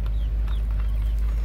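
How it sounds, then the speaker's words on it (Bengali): A brief burst of chicken and duck clucking near a home cooking area, a few quick calls over a constant low hum, no voices present. "হাঁস মুরগি"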